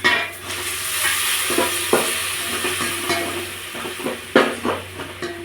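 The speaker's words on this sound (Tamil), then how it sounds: "நம்ம தக்காளி 1-2 அரைச்சிருக்கோம் பார்த்தீங்களா, அதை இதுக்கு ஊற்றிக்கலாம்." Ground tomato paste from one or two tomatoes goes into a frying pan for fish curry, sizzling steadily while a spoon stirs and scrapes with occasional louder clunks, close and clear.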